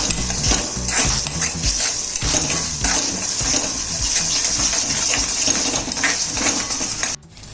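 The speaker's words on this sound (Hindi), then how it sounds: "अभी हम इसमें जिंजर गार्लिक पेस्ट डालेंगे। और अभी हम इसे अच्छी तरह से मिला लेंगे।" Ginger garlic paste being stirred into spinach paste in a pan for palak paneer, giving a steady run of scraping, clinking utensil strokes with a faint sizzle throughout, cutting off abruptly just before the end.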